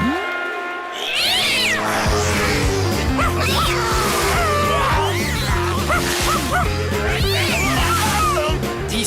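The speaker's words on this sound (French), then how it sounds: "Alors un chien..." Barks and yelps from a dog in the Les Dalton video game, repeated in quick bursts over a bouncy game music track that runs throughout.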